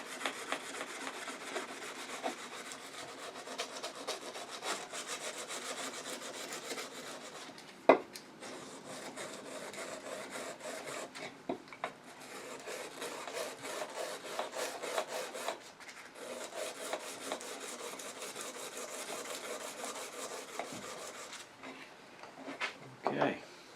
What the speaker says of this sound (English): Now it's an 80 grit belt sander, so I'm going to polish it up a little bit with a little 240 where I rounded it over.